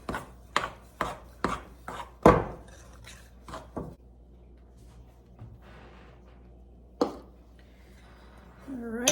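Scone dough for cranberry orange scones being worked by hand in a bowl, a run of sharp scraping and knocking strokes followed by softer rubbing, with a quiet stretch and a few later clacks.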